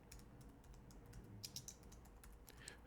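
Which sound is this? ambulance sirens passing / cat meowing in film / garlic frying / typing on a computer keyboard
typing on a computer keyboard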